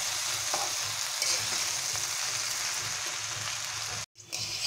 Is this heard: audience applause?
no